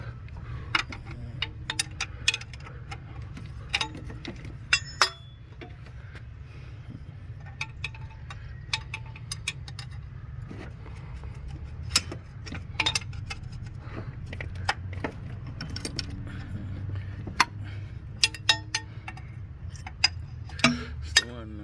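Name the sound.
removing motor mount bolts on a 2002 Honda Civic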